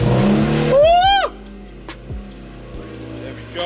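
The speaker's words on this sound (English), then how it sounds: "I thought I'd give it a bit of a rev for you guys." A Ford Fiesta MK6 with 25mm wheel spacers revs hard once, the engine note climbing loudly, then drops back to a low idle with faint clicks.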